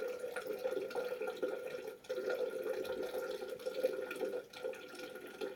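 Combustion gases from a flame bubble through liquid in a lab apparatus, a steady close stream of small bubbling and gurgling that runs continuously with brief dips, and no talk over it.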